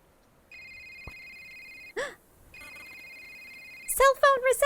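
Cell phone ring in the video game A Short Hike, a steady electronic tone that rings twice with a short gap and a soft breath between, followed by bursts of chirpy, garbled game voice sounds.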